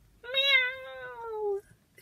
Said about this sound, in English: It's only a cat.